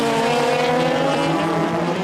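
Loud, close rallycross race car engines roar and rev continuously at a race in Oulu, a harsh buzzing drone with shifting pitch.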